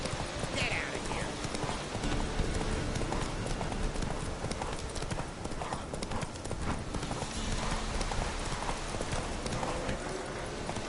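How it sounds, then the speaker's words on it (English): Galloping horse hoofbeats in the Witcher video game, a fast continuous clip-clop close up and loud, with a voice speaking over the running hooves. "Run, Roach."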